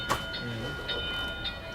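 A bus pulls away during a 2022 Irish bus test, giving a soft rumbling, train-like ride with faint rhythmic clatter and a few brief high tones, quiet and without speech.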